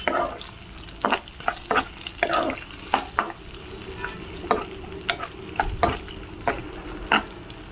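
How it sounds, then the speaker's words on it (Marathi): Sliced onions sautéed in a pan with whole spices for masoor bhat, with a steady sizzle broken by repeated sharp spatula scrapes and stirs at close range. No one speaks. "उभे चिरून कांदा घेतलेला आहे, त्याच्यामध्ये ॲड करणार आहे आणि छान असा परतून घेणार आहे"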